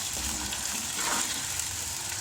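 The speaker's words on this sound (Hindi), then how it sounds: "तो मैं तड़का लगा रही हूँ गोश्त का।" Meat frying in a tadka for palak gosht, a steady close sizzle with dense crackling that holds evenly throughout, no talk.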